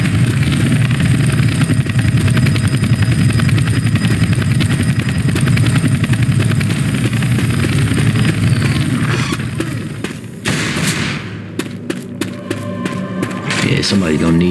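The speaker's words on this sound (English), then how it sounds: "Helicopter!" Helicopter in the video game Left 4 Dead 2, a loud steady rotor chop and engine drone that carries on for most of the clip before breaking up into cluttered game noise near the end, with voices talking over it.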